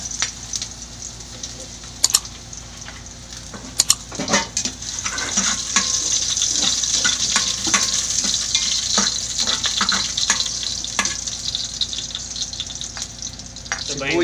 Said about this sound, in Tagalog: Natin igigisa ang bawang,